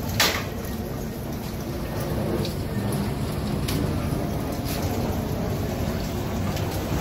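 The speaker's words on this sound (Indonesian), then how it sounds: "Setelah panel dinyalakan, barulah mesin Interception bergerak seperti ini" A trash interceptor vessel's machinery runs steadily after its control panel is switched on, a continuous broadband churning and splashing like heavy rain or water falling, close and fairly loud throughout with occasional sharper clicks.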